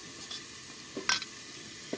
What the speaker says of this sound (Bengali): এই যে আলুটা দেখুন ভাজা ভাজা করা হয়ে গেছে